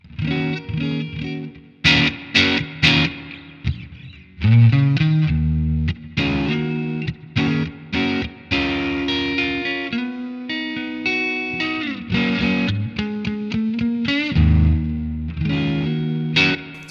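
Electric guitar through a Mooer Preamp Model X pedal with a gritty, overdriven tone plays picked notes and chords, with sharp attacks and a slightly distorted, ringing sustain.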